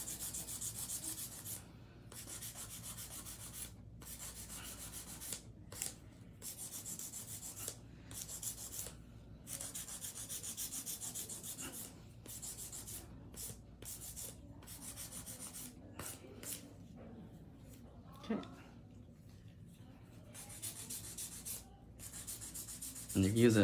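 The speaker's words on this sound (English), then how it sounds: "Me just prepping my hand filing." Quiet, close rasping strokes of a hand nail file on acrylic nails scrape in short bursts with brief pauses between, growing slightly louder toward the end.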